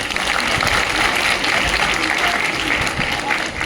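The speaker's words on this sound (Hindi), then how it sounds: "जोरदार तालियों से बच्चों से अनुरोध है कि हमारे सभी अतिथियों का स्वागत करें।" Children in an audience applaud steadily to welcome guests at a school competition event, a dense, even wash of clapping that holds its level throughout, close and fairly loud.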